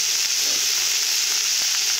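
Salted bitter gourd fries in a pan with a loud, steady, close sizzle and crackle, a few faint stirring taps underneath.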